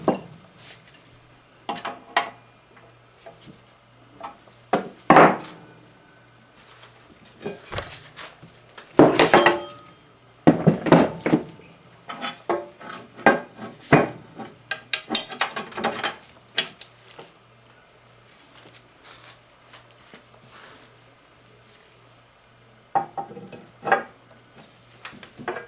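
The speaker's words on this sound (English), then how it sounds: "I'm going to go ahead and put on the headstock" Heavy cast headstock of an Atlas 618 (Craftsman) lathe being fitted onto the bed during restoration, with irregular close metallic clanks, knocks and scraping bumps spread across the stretch, with quieter gaps between and no talking.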